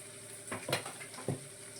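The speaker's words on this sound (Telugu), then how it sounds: "పసుపు వేసేసి చక్కగా వేయించేసుకుందాము. ఇది వేగుతూ ఉంటుందండి." Spices and turmeric frying in a pan for a stuffed okra curry, a gentle sizzle punctuated by two or three sharp stirring scrapes against the pan.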